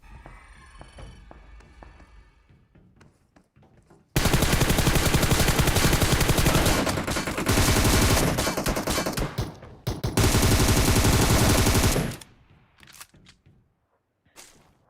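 Gunfire sprays in a battle royale video game: long, loud bursts of rapid automatic shots follow quieter scattered sounds, with a brief gap between bursts and softer shots trailing off at the end.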